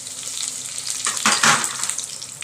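Chana dal, urad dal and curry leaves hit hot oil for a masala dosa filling, a close, bright sizzle that flares into a loud crackling burst midway and then settles back to a steady fry, with no voices.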